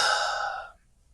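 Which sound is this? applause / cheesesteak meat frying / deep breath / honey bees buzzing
deep breath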